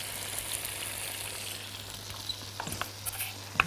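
Garlic frying in a pan for a mushroom-sauce chicken dish gives a soft steady sizzle, joined near the end by a few light clinks and stirring scrapes, close and quiet with no talking.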